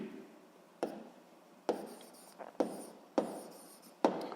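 Chalk or pen strokes on a board while a physics proportion is written out, five sharp taps with scratchy scraping between them, close and fairly quiet with no talking.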